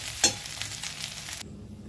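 Hot oil sizzles steadily as soybean chunks fry, with a brief scrape of a utensil near the start, then the frying hiss cuts off abruptly, leaving a low background hum.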